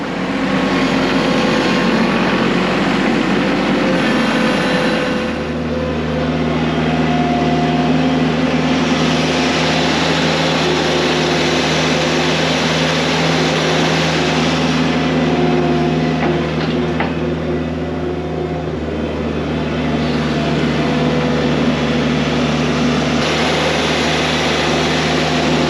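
A farm engine from a tractor or quad runs continuously close by while farm equipment is moved out of a barn, a loud steady droning hum with shifts in pitch as the machine changes speed, with no voices.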